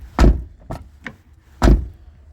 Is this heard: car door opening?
yes